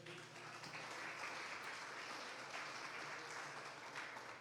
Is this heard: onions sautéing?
no